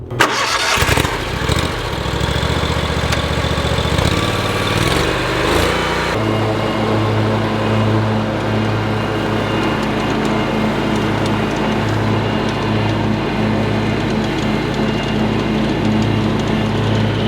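Hustler Super 88-inch stand-on rear-discharge mower starts up with a brief rough burst, then settles into a steady, loud engine drone with blade hum that runs unbroken and close for the rest of the stretch.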